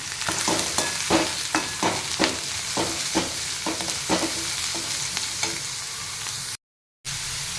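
Carrots and mixed vegetables sauté in a pan, with a steady sizzle under repeated, rhythmic scraping strokes of a spoon stirring, about a dozen evenly spaced strokes, close and clear, with a brief dropout near the end.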